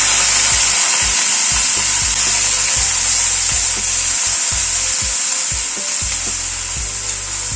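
Onion paste sizzles loudly in hot oil with star anise in the pan, a dense, steady frying hiss broken by repeated scraping strokes of a spoon stirring against the pan, with no talking.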